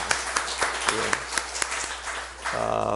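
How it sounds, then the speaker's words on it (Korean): A church congregation in a Sunday service claps in thanks and praise, a scattered run of distinct claps over a dense patter, briefly overlapping a voice, before the clapping gives way to a spoken voice with a steady tone underneath. "우리 감사와 찬양의 박수를 드리겠습니다"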